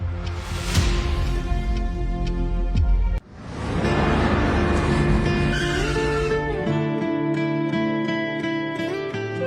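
A car driving fast with loud, close tire squeals, the engine note roaring steadily throughout, a brief dip partway, then a sustained screech as it skids.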